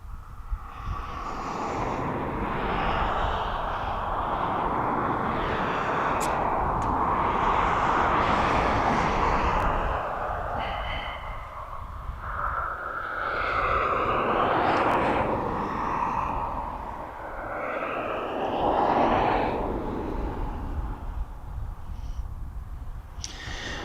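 An aircraft passes near East Midlands Airport with a broad, roaring jet noise that swells and fades in waves, moderately distant, carrying wind buffeting and occasional faint voices underneath.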